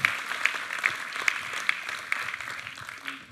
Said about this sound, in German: Lass uns ihm nochmal einen Applaus geben